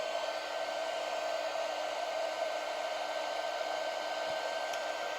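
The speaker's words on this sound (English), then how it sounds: "just run my heat gun over that just a little bit to make sure my ink is dry" A heat gun blows steadily over inked paper, a continuous airy whir with a faint tonal whine that stays level and close throughout.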